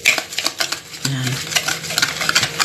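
Eggs and sugar are stirred together in a bowl until the sugar dissolves, giving quick scraping and tapping strokes close up at a steady rhythm, with a faint hum in the background.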